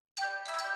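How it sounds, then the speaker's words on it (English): A short electronic ringtone chime at an indoor company event, a bright tonal ring that starts abruptly and then swells into a second, fuller burst, heard alone with no talking. "Sorry, your phones are ringing."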